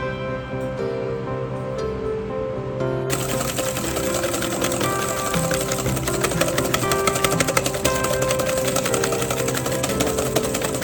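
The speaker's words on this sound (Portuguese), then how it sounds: "Próximo passo agora então é bater as gemas com o açúcar até ela ficar mais branquinha" An electric mixer whips egg yolks with sugar for a Christmas dessert, a steady dense motor whir that grows louder and fuller after a few seconds and runs continuously without speech.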